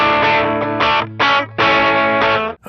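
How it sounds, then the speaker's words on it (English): An electric guitar through a Boss OS-2 overdrive/distortion pedal plays sustained, gritty chords in several bursts with short gaps, loud and close. "the OS-2 gives players a choice of overdrive or distortion, or lets them combine both"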